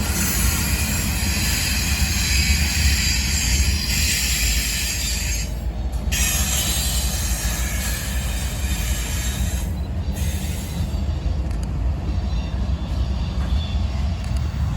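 A BNSF freight train rumbles steadily past at close range in Memphis, its wagons clanking and the wheels squealing intermittently over a continuous loud roar.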